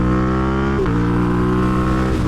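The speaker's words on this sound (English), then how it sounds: "when I'm lower down in the revs like this in third gear, I get on the throttle" A sport motorcycle engine in third gear pulls hard and loud from low revs, its harmonic drone rising in pitch as it accelerates, heard close up without talking.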